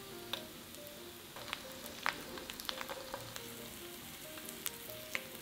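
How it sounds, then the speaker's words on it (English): Vegetable pockets in spring roll wrappers pan frying in avocado oil, giving a quiet, steady sizzle with scattered small pops and crackles throughout. "Pan fry until golden brown for another 2 minutes."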